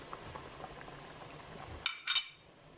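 A pot of batchoy soup boiling, with steady soft bubbling and occasional pops, then a brief louder sputter and clatter near the end.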